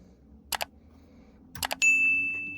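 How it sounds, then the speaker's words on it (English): Small metal screws drop into a plastic part of a 1:8 scale DeLorean model car, producing a few sharp tiny clicks and taps, followed by a brief ringing metallic ding in a quiet room. "Drop the screw in there."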